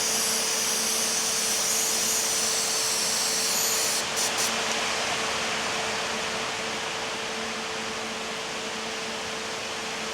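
Degreaser sprays steadily into a Holden HQ car wheel well as a continuous loud hiss lasting about ten seconds, with a steady hum underneath and a brief stutter partway through.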